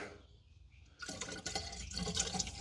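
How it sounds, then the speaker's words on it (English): Water poured into the radiator of a 1978 Chevrolet Nova, a quiet trickle swelling after about a second into a louder, rushing fill with gurgling that continues to the end, close by with no talk. "top this off with a little bit of water"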